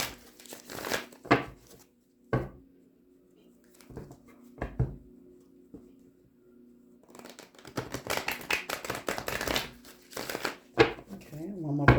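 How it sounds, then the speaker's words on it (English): Tarot cards are shuffled in quick riffling bursts with soft rustles and taps, mixed with faint vocal sounds and a quieter stretch in the middle. "Let me get you some good shuffles in, and we will begin."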